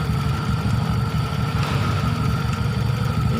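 A motorcycle engine idles steadily and close by, a continuous low rumble with an even mechanical hum and no talk over it.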